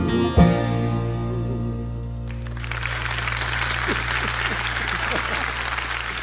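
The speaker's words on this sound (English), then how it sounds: "I just love that clap track" A recorded clap track of applause follows a held musical chord and a sharp hit, building into a thick, continuous wash of clapping over the fading tones.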